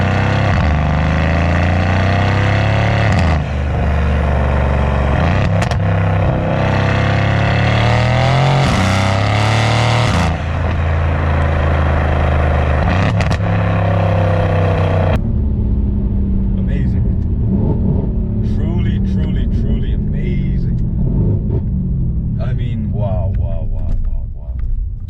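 A 650 hp Mercedes C63 AMG V8 roars and revs hard for about fifteen seconds from inside the car, then drops to a quieter, rumbling cruise with road noise.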